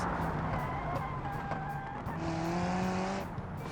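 Car braking hard on a race track in the BeamNG driving game, with tire squeal and skidding over a steady engine hum, tonal whines shifting through the short stretch, no talk.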